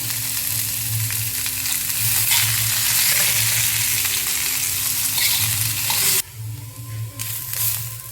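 Spices, including roasted gram, fry in a pan for a spicy chicken biryani gravy, a strong steady sizzle with stirring scrapes that drops to a quieter sizzle near the end.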